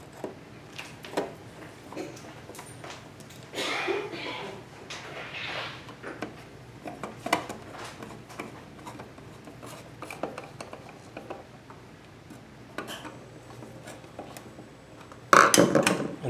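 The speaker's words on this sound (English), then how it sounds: "And we can put our screws back in here." Screws being driven back into a light switch cover plate by hand, a series of close, quiet scraping turns and small metallic ticks in uneven bursts, ending with a louder clack.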